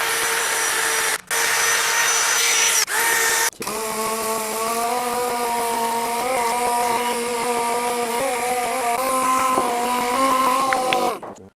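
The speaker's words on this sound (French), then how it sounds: "le fait de passer une brosse métallique va permettre de retirer tout ce qui est prêt à s'écailler" A wire brush scrubs flaking paint off the brake caliper of a Porsche 911. After a few short bursts, a loud, continuous rotary whir runs for several seconds, close and harsh, then cuts off.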